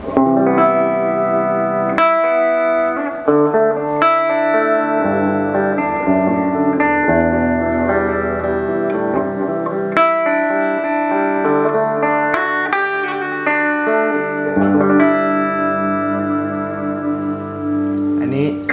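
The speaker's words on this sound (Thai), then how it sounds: "ทีนี้ให้เพื่อนๆ ลองฟังเสียงกีตาร์ เพียวๆก่อน" Clean electric guitar playing chords and single notes, bright and sustained with a touch of reverb, steady and continuous throughout.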